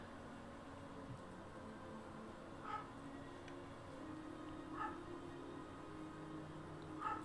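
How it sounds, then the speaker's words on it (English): Dogs barking upstairs in a house, several muffled, distant barks spaced irregularly over a steady low background hum, faint and indistinct. "Oh, you can hear my dogs? Oh, man. They're upstairs."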